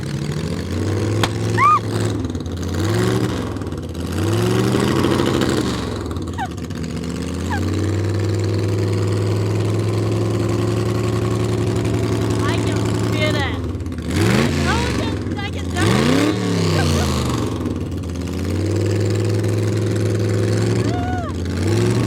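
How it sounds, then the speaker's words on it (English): Drag car engine at a drag strip tribute car show, firing up and revving repeatedly with a loud, rough, throaty roar, settling into a steady idle between blips; people speak over it at times. "I want to hear the sound of this engine."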